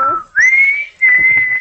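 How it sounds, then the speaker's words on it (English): A person whistles two clear, sustained high notes close by, each held nearly half a second with a brief gap between, alone without talk. "Who was whistling?"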